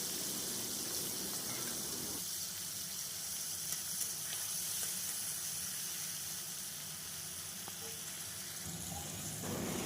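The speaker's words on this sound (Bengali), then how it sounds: "চিংড়ি মাছটাকে আমি একটু ভেজে নিচ্ছি।" Prawns fry in hot mustard oil in a pan with a steady, quiet sizzle that runs throughout at low level.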